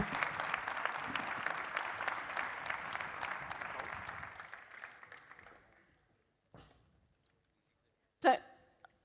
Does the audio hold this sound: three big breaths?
no